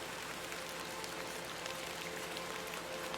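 Steady rain in the horror game The Excavation of Hob's Barrow, a continuous dense hiss of falling drops with no breaks, faint and even throughout.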